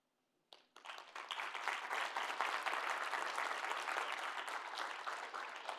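Audience applause following a student's final presentation, starting abruptly and holding as a steady, full wash of many hands clapping for several seconds.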